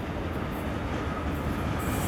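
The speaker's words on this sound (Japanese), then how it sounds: "これも特急ですね多分。" A Korean express train rushes past close by in South Korea, a loud continuous roar of wheels and rumble that swells slightly toward the end, with no talking.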